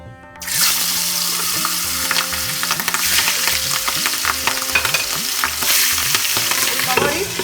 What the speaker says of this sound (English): Once oil is hot, fry the fish pieces.